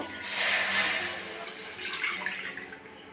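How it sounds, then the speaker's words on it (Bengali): Water from a measuring bowl pours into a cooking pan (kadai) while preparing rice-flour and coconut modak, a steady splashing pour that fades into lighter trickles and drips, close and alone. "কড়াতে আমি বাটি মেপে জল দিয়ে দেবো"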